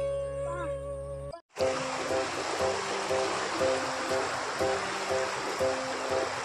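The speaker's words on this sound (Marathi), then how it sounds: "काय पाणी वाहत आहे" Floodwater pours across soybean and maize fields after heavy rain, a steady broad roar of rushing water that starts after a short musical intro and continues with faint repeating music tones layered over it.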